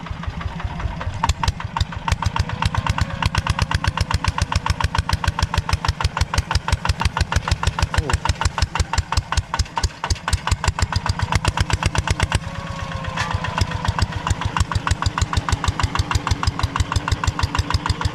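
A mechanic's vehicle sits with its engine idling steadily close by, giving a fast, even chugging rhythm that holds without a break throughout, with no talking over it.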